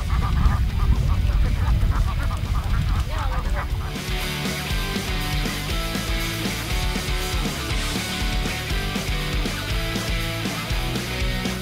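A flock of ducks on a farm quacks together in a dense, overlapping chorus, loud and close, with a busy, layered stretch that carries on steadily throughout.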